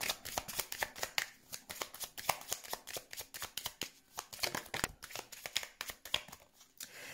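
Tarot cards being shuffled for a reading, a steady run of crisp riffling flicks and soft slaps repeating close by at a quiet level, with no talk over them.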